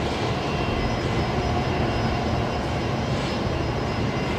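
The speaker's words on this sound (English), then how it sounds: "we got Link Airways as well coming in with another Saab 340 now" A Saab 340 turboprop airliner of Link Airways arrives at Brisbane Airport, its steady engine drone filling the air continuously and evenly at moderate distance with no talk.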